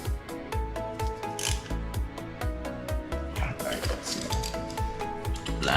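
A ratchet wrench tightens a part on a car engine that has gas in its oil, clicking rapidly and loudly in a steady, continuous run close to the mic.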